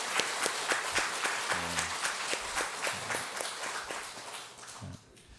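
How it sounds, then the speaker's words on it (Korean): Church congregation applauding together during a Korean worship service, a brief round of steady clapping, moderately distant, fading out at the end. "우리 서로 격려하는 차원에서 또 하나님께 영광 올려드리는 박수 한번 쳤으면 좋겠습니다"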